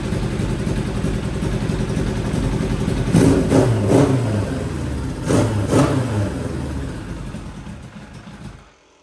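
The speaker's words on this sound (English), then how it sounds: "the bike is warming up. Idle is all over the place." A Kawasaki Ninja ZX7R motorcycle engine warming up at an uneven idle, a loud close rumble with two short blips of revving before it fades and cuts out.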